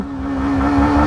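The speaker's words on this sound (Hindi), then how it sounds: "एंड लॉन्च करते हैं बाइक इन 3," A Yamaha MT15 V2 and an R15M motorcycle sit ready to launch, their engines giving a loud, close, steady drone that swells slightly toward the end.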